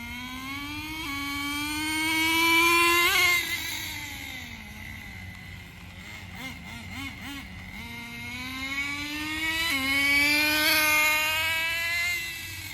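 Traxxas 4-Tec RC car with a nitro engine that needs a proper tune, buzzing high and whiny as it revs up and down in long waves, fading slightly between passes, with no talk.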